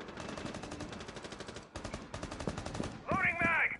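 Rapid automatic gunfire in the video game Rainbow Six Siege, bursts of fast repeated shots with a short gap partway through, followed by a brief sharper ringing impact at the end, moderately loud.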